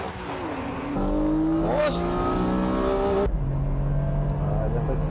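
A Honda NSX and rival supercars, including a Nissan GT-R, accelerate hard down a drag strip, engines revving loud and rising in pitch through gear changes while a commentator talks over the roar.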